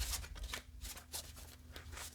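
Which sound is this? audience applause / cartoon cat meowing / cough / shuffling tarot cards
shuffling tarot cards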